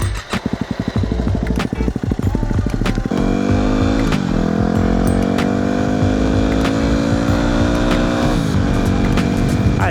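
A Yamaha WR250R motorcycle's single-cylinder engine cranks and catches, then idles with a steady putter before revving and pulling away under load, its pitch climbing through the gears; loud and close throughout, with no talk.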